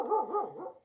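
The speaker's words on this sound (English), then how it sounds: "Sorry for the dog in the background." A dog barks and whines somewhere in the background, a short wavering, tonal burst of under a second with no talking over it.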